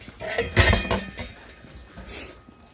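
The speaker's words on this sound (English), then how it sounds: "I'll put the lid on it nice and gently, just enough to make an indentation into the pot" A lid set down on a pot while making macaroni salad, a couple of close clinks and a brief rattle of metal on cookware, then quieter faint knocks trailing off.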